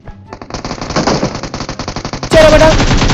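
Loud automatic gunfire in the BGMI battle royale game rattles off in rapid continuous bursts, close and heavy, then jumps to an even denser, louder stream of shots.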